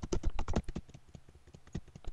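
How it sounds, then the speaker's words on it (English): Rapid, irregular clatter of keys on a computer keyboard during a Spiral Knights gaming session, close and crisp, with a dense burst of keystrokes at first that thins into scattered taps. "I kept on typing."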